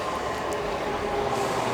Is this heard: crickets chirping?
no